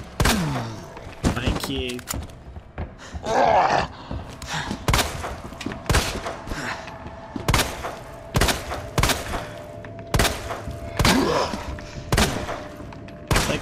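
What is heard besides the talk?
gunshots from the video game Resident Evil 2 Remake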